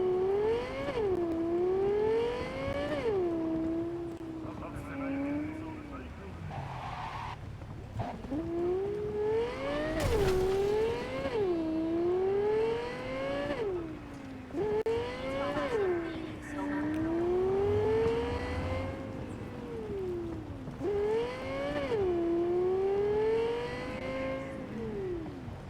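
A Rayfield sports car in Cyberpunk 2077 revs through repeated rising gear shifts, the engine climbing and dropping in pitch about every five seconds while someone talks over it.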